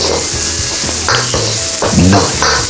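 Garlic sautéing and being stirred in a hot pan for a pork and vegetable dish, a steady loud sizzle broken by repeated scraping strokes of the spatula against the pan, with no talking.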